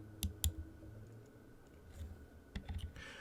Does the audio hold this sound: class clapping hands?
no